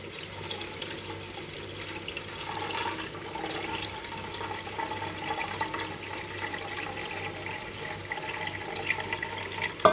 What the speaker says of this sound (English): I'm going to sieve this into another pot so that the sand and every other thing will not be cooked